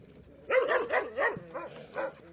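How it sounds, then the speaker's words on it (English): Shelter dogs playing after toys are tossed in, giving a burst of close, excited barks and yips that rise and fall in quick bouts over a couple of seconds. "Dogs have just had some toys thrown in for them."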